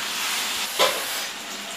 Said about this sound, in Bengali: মাংসটা আমার কষানো হয়ে গেছে, এবার এতে আমি অ্যাড করব গরম জল।